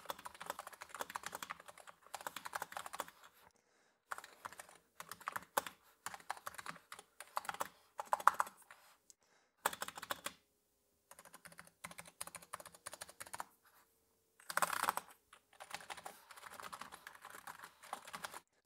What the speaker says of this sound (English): just so that you can hear what these red optical switches sound like